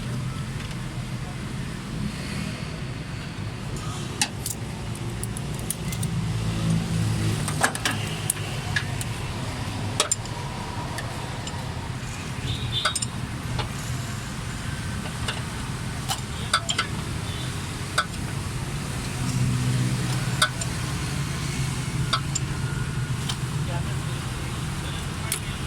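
A Suzuki Mehran car engine with all three exhaust valves shut runs at a steady idle, giving a close, continuous low rumble with faint ticking and clinking on top.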